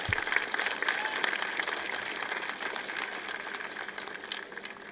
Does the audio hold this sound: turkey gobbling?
no